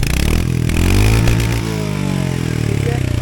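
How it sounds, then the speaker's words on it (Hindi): Royal Enfield Hunter 350 BS7 E20 2024 motorcycle engine running loud and close, a steady deep thumping idle that swells slightly as it revs, then settles back. "इसकी जो साउंड है बाइक की, वो तो भैया मुझे एकदम शानदार लगी"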